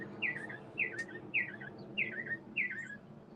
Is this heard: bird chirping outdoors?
yes